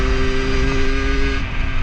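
A 50cc moped engine runs steadily while riding, with a constant droning tone and road noise, near and loud, the pitch dropping slightly near the end as it eases off.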